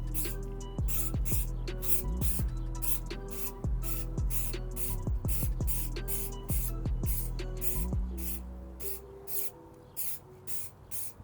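Short bursts of Reshoevn8r water and stain repellent hiss from a spray can onto Nike SB Dunk sneakers outdoors, a rapid series of close, even puffs in quick succession over faint background tones.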